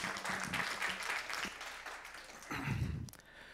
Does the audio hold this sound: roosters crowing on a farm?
no